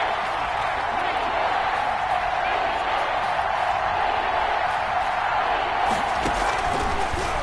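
Steady roar of the crowd at Arrowhead Stadium during a football game, a dense wash of noise with no breaks.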